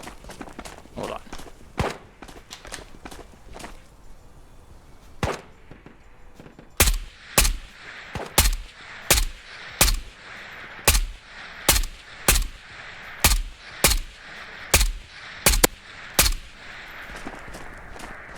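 Single shots of player gunfire in the Ghosts of Tabor game, first scattered then a steady evenly spaced series of about fifteen sharp, loud cracks, with no talk.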